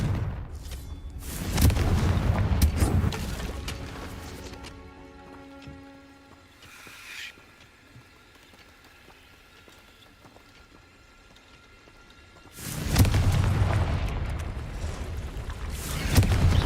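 Blasting spell explosions from a Harry Potter video game, with heavy booming bursts at the start and again near the end and a quieter stretch of ringing tones between them.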